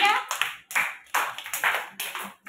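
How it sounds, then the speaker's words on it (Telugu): Children at an anganwadi clapping in short, loud bursts, several rounds of sharp collective claps separated by brief pauses, close and bright. "క్లాప్స్ కొట్టండి గట్టిగా"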